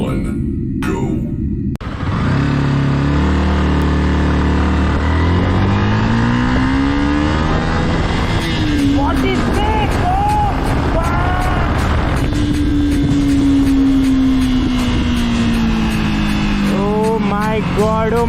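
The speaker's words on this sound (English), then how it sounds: "So let's start riding this bike." A Yamaha motorbike accelerates hard on an open road, loud and close, the engine note climbing through several gear changes with rising whine and wind roar, while a voice talks over parts of it.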